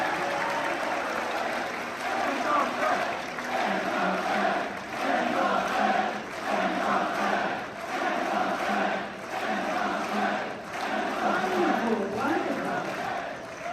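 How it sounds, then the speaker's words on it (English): A large rally crowd claps and cheers continuously as Ron Paul comes out on stage, a dense, loud wash of applause and shouting that swells and dips in waves, with voices mixed throughout. "the entire crowd that was cheering and clapping for Ron Paul"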